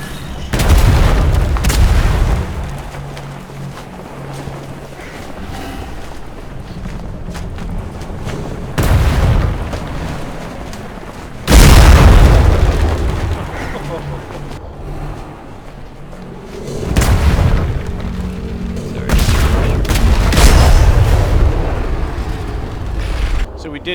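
Attack cruiser in a video game firing its guns, heavy booms and explosions landing in several loud bursts over a rumbling background.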